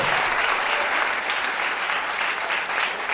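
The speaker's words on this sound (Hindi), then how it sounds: "डायरेक्ट सेलिंग इंडस्ट्री के लिए एक जोरदार ताली चाहिए" An indoor audience at a direct selling industry recognition event breaks into loud, dense applause that holds steady throughout.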